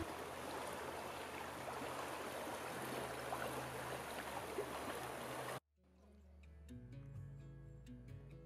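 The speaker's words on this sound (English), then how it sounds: "This is General Creek, one of 62 streams that feeds into Lake Tahoe." General Creek, a stream feeding Lake Tahoe, gives a steady, close rushing of water for about five seconds, then the sound cuts to quieter outdoor ambience with soft, faint rumbling.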